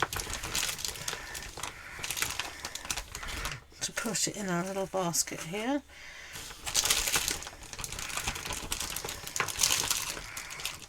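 Plastic Easter eggs are pulled from a big bag and put into a small basket, giving continuous crinkling, rustling and hollow clacking close by, with someone talking in the middle.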